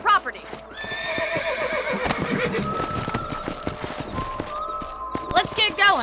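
In the video game Red Dead Redemption, a horse whinnies loudly near the start while hooves clip-clop steadily underneath, with a second shrill neigh near the end and a voice talking over the scene.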